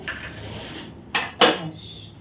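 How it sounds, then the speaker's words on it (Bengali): A pot of water is set on the stove to heat and covered with its lid, giving two sharp metallic clanks close by and one after another, with quiet kitchen handling around them. "জলটা বসিয়ে দিচ্ছি একটু গরম হতে একটু ঢাকা দিয়ে দেবো"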